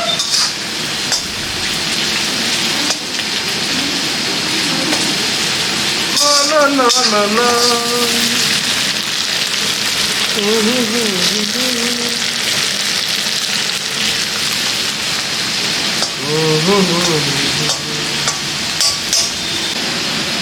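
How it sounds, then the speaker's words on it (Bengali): Onions browning in a pan in a hot kitchen with a fan running, a steady sizzle with clinks of a stirring utensil, while people talk over it at intervals. "আমাদের তো পেঁয়াজ ভাজা চলছে, বাদামি দিকে আসছে।"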